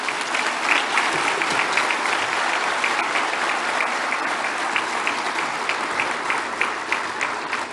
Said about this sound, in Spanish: Un aplauso a nuestros compañeros,